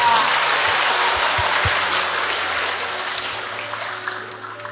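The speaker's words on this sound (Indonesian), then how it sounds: "Tepuk tangan buat anak kedua." Audience applause at a religious talk, a broad steady wash of clapping from a large crowd that slowly fades over several seconds, with faint speech underneath.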